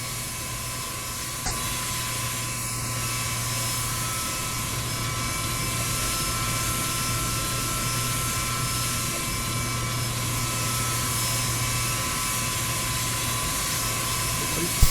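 Airliner takeoff in the X-Plane 11 flight simulator game, a steady loud engine roar with a constant low hum and a high whine, continuous and unchanging throughout.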